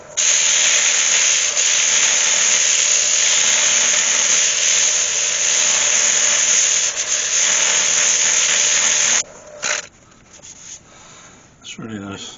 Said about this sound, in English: I just need to get the sander in there